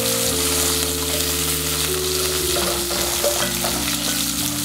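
Sweet corn fries with garlic in a hot pan, giving a steady close sizzle with some stirring and scraping, no voices heard.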